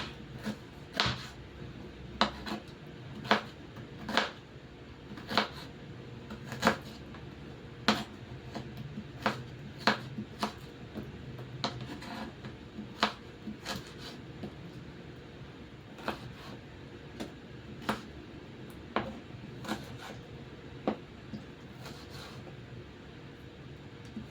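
Garlic cloves are crushed before slicing, a long series of sharp, close knocks roughly once a second, evenly spaced and moderately loud, with no talking.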